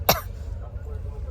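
A single sharp cough near the start, followed by quiet room hum.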